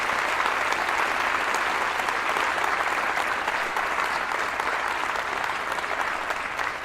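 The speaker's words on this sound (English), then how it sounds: "if we could give a round of applause to them" An audience gives sustained applause at the UMSS18 closing ceremony, a thick, even wash of many hands clapping that holds steady for about seven seconds before easing slightly at the end.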